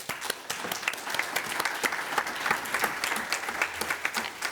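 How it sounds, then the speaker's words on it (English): Conference audience applauding panelists at a food infrastructure forum in Barcelona, dense steady clapping from many hands filling the room, moderately loud and sustained without talk. "So let's give them another round of applause"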